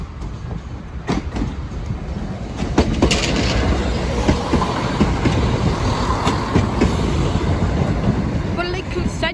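A train rumbles past the Sleaford East level crossing, a broad steady roar rising after a few seconds with rattling wagon clatter, heard close over a continuous noisy background.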